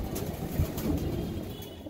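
Pigeons in a loft, sold for racing and roller lines, give low soft coos against a muffled background rumble, a couple of close calls over about two seconds.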